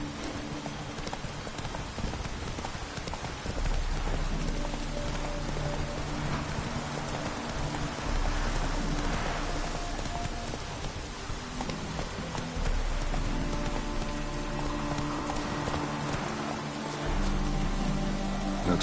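Rain falls steadily in The Witcher 3: Wild Hunt, a soft continuous patter beneath the clip-clop of horse hooves.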